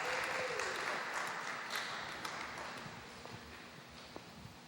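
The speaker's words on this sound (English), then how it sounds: "give him a round of applause" A Brooklyn panel audience gives a round of applause, a dense wash of clapping that starts strong and slowly fades over a few seconds, with a few louder claps near the end.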